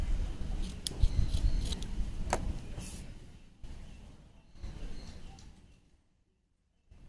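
Scissors snip silk thread into small pieces for tassel earrings, giving several crisp close clicks and cuts over soft handling rustle. The sound fades into near silence at the end.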